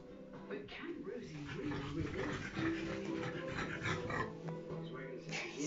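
A French bulldog pants and whimpers indoors in a steady, close run of breathy snuffles and soft whines, with a television and voices talking in the background.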